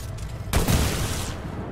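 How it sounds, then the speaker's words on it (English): Shotgun fire in the video game Titanfall 2: a single loud burst with a short rumbling tail, heard alone over steady game background noise. "It's a shotgun, I think."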